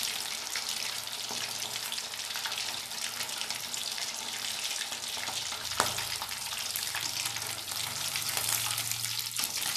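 Masala-coated fish fries in a pan with a steady, even sizzle and a low hum beneath, broken once by a sharp click partway through.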